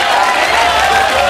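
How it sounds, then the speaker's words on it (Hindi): An audience at a Hindi television courtroom-style talk show breaks into a brief, dense burst of clapping that stays steady and loud throughout. "ताली बजाओ"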